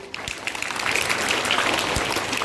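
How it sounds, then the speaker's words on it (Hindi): Schoolchildren at a DAV Public School gathering in Patna applaud a speaker, dense clapping building up from a quieter start and holding steady, moderately loud and close. "तो तालियों के साथ स्वागत करो कृष्ण भैया।"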